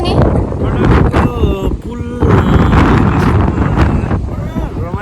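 Strong cold wind buffets the microphone on a motor boat ride on the Karnali river in Bardiya, Nepal, a loud continuous roar with people talking and calling out over it.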